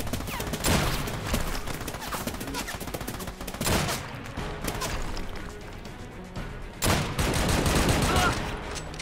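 Gunfire in the Army of Two game, made up of loud repeated bursts of shots and crashing impacts, with sharp heavier volleys near the start, middle and end over continuous battle noise.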